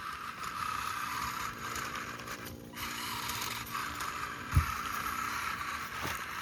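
An L&T tractor engine runs steadily after being started, a continuous rough drone with faint mechanical rattles and one brief thump, with no talking.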